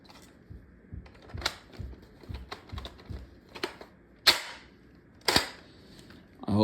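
A Nerf Buzzbees Twist Fury blaster gives sharp, dry plastic clicks and cranking ratchets, with two louder snapping pops as darts are fired, close and alone.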